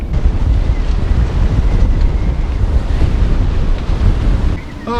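Loud rushing North Atlantic ocean waves churn continuously around a sailing boat, heavy wind buffeting the microphone, close and enveloping.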